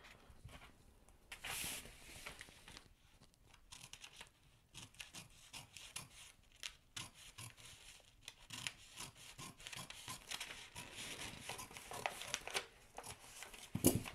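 Paper sleeve pattern being trimmed out by hand, quiet close rustling, rubbing and snipping scrapes in irregular bursts with soft crinkles, no voices.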